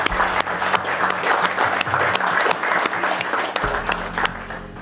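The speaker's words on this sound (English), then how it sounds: "So I think we'll have a clap for that." Wedding guests clap for the bride, a warm, full burst of applause from a room of people that holds steady for several seconds, with some murmured voices beneath.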